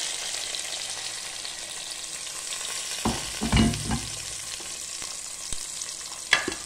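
Onion goes into a pan to fry for Brazilian fish moqueca, giving a continuous close sizzle with a burst of clattering stirring in the middle and another clink near the end.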